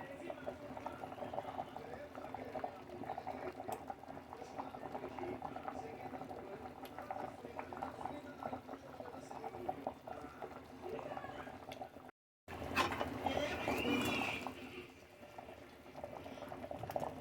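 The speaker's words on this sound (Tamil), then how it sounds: "குழம்பு கொதிச்சிருச்சு, சர்வ் பண்ணிக்கலாம்." Mochai kottai masala kuzhambu curry boiling in a pot, a close steady bubbling and gurgling that continues throughout, with a short break and a voice speaking briefly near the end.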